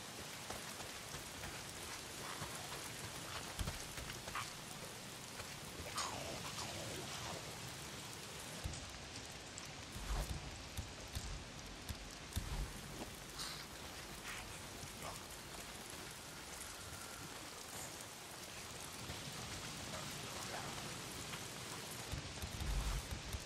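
Steady rain falls throughout the video game Days Gone, a dense, even hiss with scattered droplet patters and no voices, holding at one level for the whole stretch.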